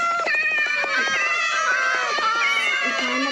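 A cat meows repeatedly in close, loud, overlapping wails, the cries rising and falling continuously with no pauses between them.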